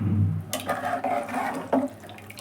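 Water poured into a cooking pot while making an avarekalu huli curry, a short splashing gush with a couple of bursts, close and fairly loud.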